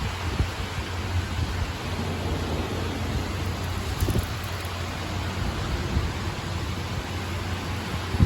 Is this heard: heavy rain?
yes